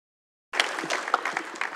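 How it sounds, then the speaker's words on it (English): A city council meeting audience breaks into applause for the police after a half-second of silence, a steady, moderately loud wash of clapping from many people in the chamber. "give them a big round of applause in keeping our city safe"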